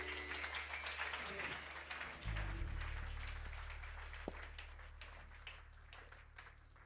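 Congregation applauding during a Sunday worship service in a church, a broad wash of clapping that swells early and then holds steadily, slowly fading, with low crowd noise and voices underneath.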